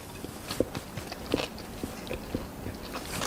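Someone bites into a crunchy chickpea and tuna salad with a few close, crisp crunches and chewing, spaced unevenly over a quiet room without speech.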